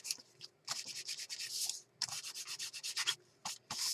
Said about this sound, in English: And I'm just going to rub that over the page.